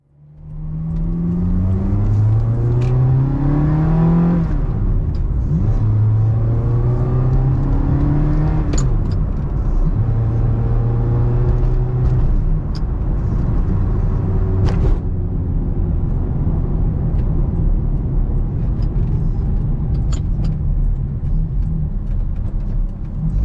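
A Ferrari F430 converted to a gated six-speed manual drives on the road, its engine droning loudly and climbing in pitch through several rising sweeps as it accelerates and shifts, with no talking.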